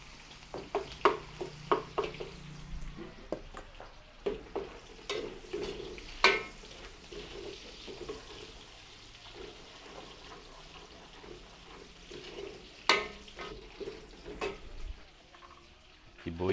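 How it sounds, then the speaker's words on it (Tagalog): Garlic sautéing in a pan with browned meat for a large birthday meal in Alangilan, Batangas, a soft crackling sizzle under repeated scraping and stirring strokes, fairly quiet and close. "Gisa tayo ng bawang."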